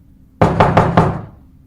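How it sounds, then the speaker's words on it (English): Four quick, sharp knocks on a front door, evenly spaced and close by, sounding in crisp succession after a brief quiet moment, with no one speaking. "There was another knock."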